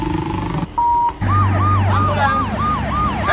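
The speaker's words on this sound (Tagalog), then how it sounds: "Ambulansya." An ambulance siren on a road, loud and close, with a brief steady tone then a rapid repeating wail rising and falling over a rumbling engine.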